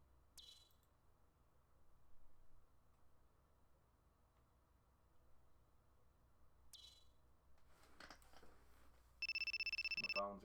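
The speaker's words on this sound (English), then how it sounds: "My phone's ringing." In the PS3 racing game Wangan Midnight, a phone ringtone chirps in a fast pulsing burst near the end, coming in loud and electronic over a low rumbling game ambience after quiet stretches.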